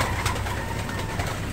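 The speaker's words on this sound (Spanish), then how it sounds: "Tórtola de collar doméstica" A domestic collared dove coos continuously at close range, its low, soft calls steady throughout against a hissy outdoor background.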